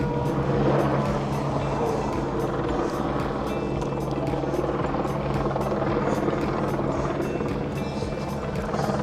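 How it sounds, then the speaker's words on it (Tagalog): Helicopter over the Isle of Man TT course on senior race day, its rotor chop a steady rapid thudding that stays loud and continuous throughout, with faint crowd chatter beneath. "Parang mag-start na kasi andyan yung helicopter."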